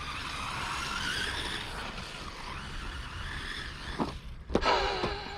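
An FTX Banzai RC car runs on a track during testing, a continuous whirring buzz of the motor with sharp squealing skids toward the end, moderately close with no talk.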